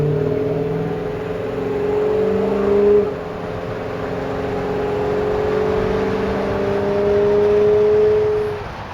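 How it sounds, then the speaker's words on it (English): A 1953 Ford F100 pickup truck with a small, torquey engine accelerating, heard from inside as the engine climbs in pitch through two swells of revving with a gear change between, loud and close. "We step on the truck and it's torquey."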